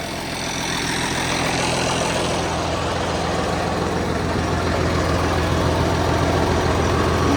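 A Cat 966 wheel loader's diesel engine idles in cold weather, a loud, steady, close rumble that holds without change throughout.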